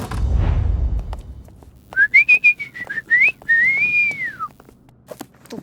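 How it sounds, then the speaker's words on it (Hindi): A man whistles a signal in a domestic setting, a short series of bright rising and falling notes followed by one longer sweeping whistle, close and clear against a quiet background. "ये आपको देखकर सीटी नहीं बजा रहे।"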